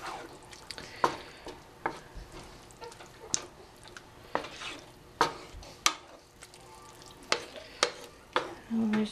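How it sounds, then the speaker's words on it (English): Taco pasta sizzling in a pan as stock goes in, with repeated sharp scrapes and clinks of a utensil stirring against the pan over a continuous close sizzle. "I'm going to add a little bit more stock."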